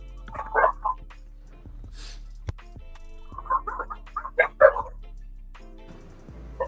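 Dogs barking at a late-night sitdown, a few loud yelping barks in two clusters, close by, over a low steady hum and faint voices.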